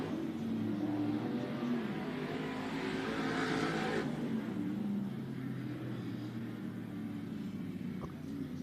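Race cars roaring around a track, a steady engine drone with one car rising and fading away as it passes, a spin-out somewhere in the action.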